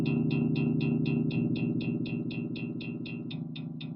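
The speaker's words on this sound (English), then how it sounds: "I've chopped it up into eighth notes that sound like this." A synthesized harmony chord chopped into steady eighth notes plays from a piano roll, repeating evenly with a bright attack on each pulse over a sustained low bed, loud and alone.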